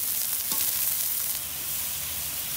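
Spice paste of chilli, salt, turmeric, chilli powder and ginger-garlic-cumin paste sizzling in olive oil with bata fish, a continuous close hiss of frying with a brief stir scrape near the start.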